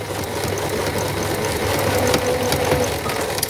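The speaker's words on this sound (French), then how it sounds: "on va venir tirer au fur et à mesure que la machine forme le point" A domestic sewing machine stitches fabric, a continuous mechanical whir with faint ticking, close and steady throughout the short stretch, with no talking.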